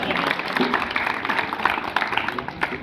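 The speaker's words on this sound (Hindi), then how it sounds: "तो एक बार बच्चों के लिए वो तालियां बजाइए" Audience applause for schoolchildren at a school admission festival, a dense continuous patter of many hands, moderately loud and steady, with a hall's crowd murmur blended in.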